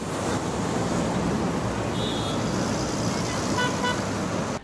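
Dense road traffic roars steadily at a city traffic light, with a few short car horn toots rising above the constant rumble.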